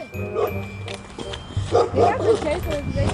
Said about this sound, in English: There's always loose dogs over here.